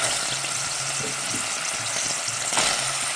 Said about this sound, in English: And now I'm going to add my onions.